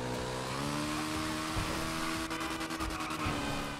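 Nagasaki BF400 dirt motorcycle ridden in GTA V, its engine droning steadily and loud throughout with rising revs, joined near the end by a burst of sharp rattling clicks.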